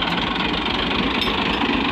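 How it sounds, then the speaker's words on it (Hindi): A tractor pulling a rotavator in a Pakistani village field labours steadily while stuck, its engine a loud, continuous, rough drone with knocking throughout and no talking. "ट्रैक्टर गे फस हुन देखो पता नहीं किवें निकलदे"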